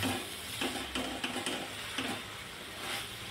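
Pumpkin bhaji is stirred in a covered pan, with soft scraping strokes over a gentle, steady sizzle. The stirring sounds are close, quiet and repeated at irregular intervals, and no one speaks.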